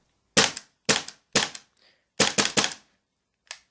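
A GHK G5 gas blowback airsoft gun fires on full auto in short bursts. Each burst gives a set of sharp, close, crisp cracks with brief silences between, ending on a single lone shot.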